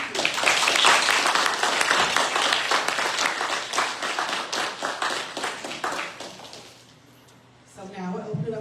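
A crowd applauds speaker Rachel, loud sustained clapping that fades after about six seconds into quiet, with a voice starting up at the very end.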